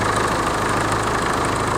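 A standby generator engine idles steadily nearby, a loud, even rumble with a low hum and no voices.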